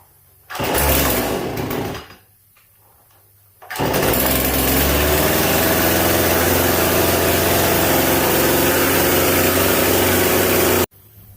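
A chainsaw engine fitted with a replacement drum starts with a loud burst, drops briefly, then settles into a steady, loud idle that runs close up for several seconds before cutting off abruptly.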